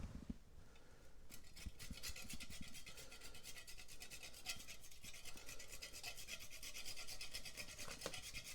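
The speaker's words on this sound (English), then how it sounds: "I'm going to garnish it with a little bit of freshly grated nutmeg" Fresh nutmeg grated over an Alexander cocktail, a close, steady rasping scrape of rapid strokes against a grater that continues evenly, quiet and alone.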